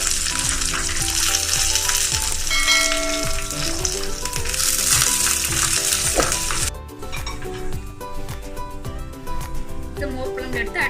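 Mustard seeds, fenugreek, shallots, dried chillies and curry leaves sizzle and crackle in hot oil for a mor kuzhambu, a loud continuous fry with stirring scrapes and a brief hiss shift partway through.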